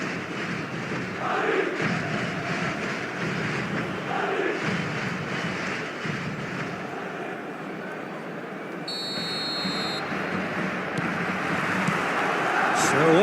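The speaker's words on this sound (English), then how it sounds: "expectant buzz in the stadium and the players on the pitch are raring to go" Stadium crowd buzz in the eFootball video game, a steady broad murmur of many voices filling the background, holding fairly even with a slight swell near the end.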